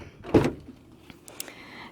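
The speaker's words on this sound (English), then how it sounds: "they have these magnets where it latches here, so the door comes all the way and it's like out of your way" The sliding door of a 2018 Nissan NV 3500 passenger van rolls open and latches with a quick solid thud, followed by a few faint mechanical clicks.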